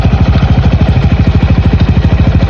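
Yamaha Aerox or Nmax scooter idling with a rhythmic, grinding-like clatter pulsing fast and evenly, loud and close, with no talking.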